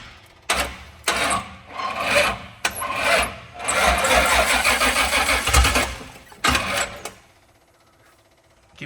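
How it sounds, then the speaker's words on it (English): C30 engine turned over repeatedly on the starter button after priming, several loud grinding cranking bursts separated by short pauses, with one longer sustained crank in the middle before falling quiet. "Try your starter button there."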